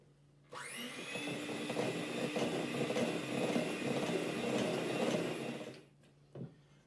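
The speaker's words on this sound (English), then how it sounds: "High power mixer again." An electric mixer runs on high power, beating banana berry muffin batter in a loud, steady whine for about five seconds before stopping, followed by a single brief knock.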